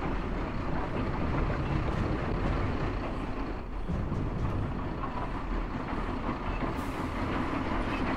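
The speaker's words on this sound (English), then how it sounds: "Back up the train! I can never move a train." Train in the Iron Harvest video game rumbling and rattling steadily along, with continuous wheel and carriage clatter throughout, no voices heard.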